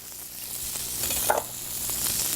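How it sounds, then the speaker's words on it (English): Green onions hitting a hot pan, a steady close sizzle with stirring scrapes and a brief louder burst midway, no voices. "So I'm going to add my onions now into the pan, my green onions."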